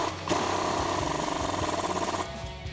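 Impact wrench with an 18mm socket tightening a strut bolt during a Dodge Challenger lowering-spring install: a close, loud, rapid hammering rattle bursting on, running about two seconds, then cutting off.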